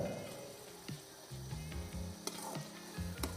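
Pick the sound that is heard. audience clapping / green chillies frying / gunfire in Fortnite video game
green chillies frying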